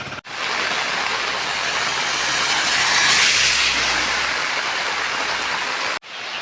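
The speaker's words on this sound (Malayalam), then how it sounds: "ഭയങ്കര മഴയും ഭയങ്കര കാറ്റൊക്കെ" Heavy rain and strong wind on a hillside road near Adivaram, Kozhikode, a loud steady broadband roar with no letup that fills the whole stretch.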